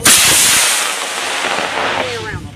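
A B6 model rocket motor on a GT64 rocket ignites at a club launch with a loud sharp whoosh that roars off and fades as the rocket climbs into the distance, heard outdoors.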